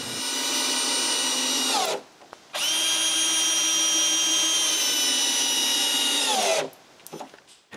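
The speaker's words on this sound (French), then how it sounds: "je dois visser un autre bout de bois pour retenir le mécanisme de mouvement du chariot" A power drill driving a screw into a piece of wood while reinforcing a chainsaw-built sawmill's carriage mechanism, a loud close whine running about two seconds, a brief pause, then a longer sustained run that winds down at the end.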